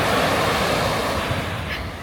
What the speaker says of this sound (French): On va attendre les grosses vagues.